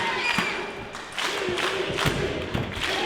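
A wrestling crowd at an independent show rallies in rhythmic bursts of cheering and clapping, each surge landing in a regular beat with occasional thuds.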